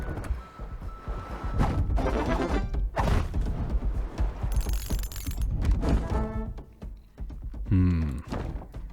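Mortar fire from a rolling medieval castle in the game Wanderburg, heard as a series of heavy, close thunks and thuds with crashing impacts. A voice talks over some of them.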